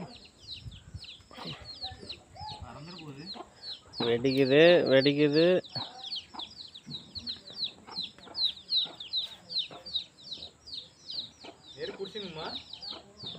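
Chickens cluck and chatter continuously close by, with one louder drawn-out squawk partway through, while a person speaks briefly.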